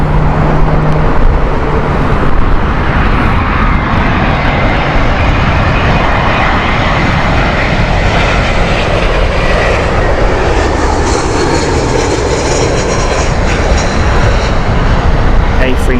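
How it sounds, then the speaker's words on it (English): An Airbus A320neo operated by TAP Air Portugal arrives at Heathrow on an inbound flight from Lisbon, its engine roar a steady broadband rumble holding at a constant loud level throughout, with a voice talking over it. "the TAP Air Portugal flight with their Airbus A320neo. That's inbound next."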